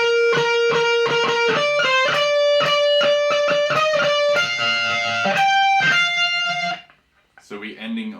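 Distorted electric guitar plays a shred solo passage, fast picked notes ringing in quick succession, loud and close, then a short bend or sustained phrase to finish with no talking.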